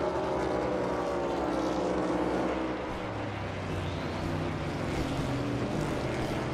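A NASCAR Cup Series stock car brakes into the final turns of the Indianapolis road course. The engine roars loud and dense throughout, its note dropping and then building again, with no voices.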